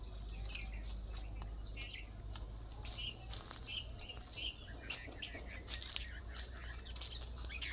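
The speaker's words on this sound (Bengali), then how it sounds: "কিছু পাখির আবার ডাক শোনা যাচ্ছে। অনেক পাখি এই গাছগাছালিগুলোতে বসেছে।" Birds call from fruit trees around a pond near the Meghna River at Hijla, Barishal, giving scattered short chirps and tweets over a steady low hum and faint background noise.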